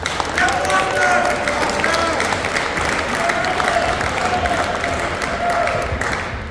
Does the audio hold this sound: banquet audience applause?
yes